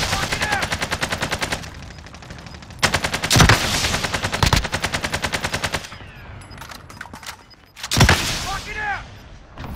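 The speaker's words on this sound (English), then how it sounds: "Friendly sentry gun online." Automatic sentry gun fire in the Call of Duty: Modern Warfare video game, as sustained rapid bursts of machine-gun rounds with several heavier booming shots, mixed with game sound effects and brief voice callouts.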